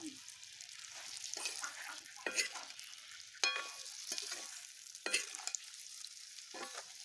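Panch phoron spices frying for amla pickle give a faint crackling sizzle, with scraping stirs and small pops coming at intervals.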